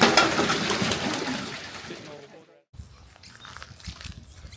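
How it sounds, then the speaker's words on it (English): A water wheel built from 44-gallon drums and fence pickets at an outback mining site churns and splashes, a loud rushing wash of water that fades within a few seconds, leaving quieter dripping and ambient sound. "This is a water wheel"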